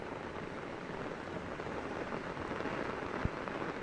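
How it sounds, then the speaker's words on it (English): Heavy rain pounding on an umbrella during a Long Island flash flood, a close, constant dense patter and hiss with a single louder knock late on. "pounding on my umbrella."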